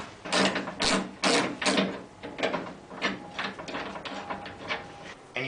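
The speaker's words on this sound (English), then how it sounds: "We have to start by loosening these bolts." Metal bolts on a door track being loosened with a tool, giving a series of sharp ratcheting clicks and scraping mechanical bursts, close and fairly loud, with no talking.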